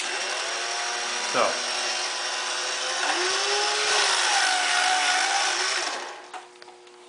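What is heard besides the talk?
power sharpener sharpening a V tool or gouge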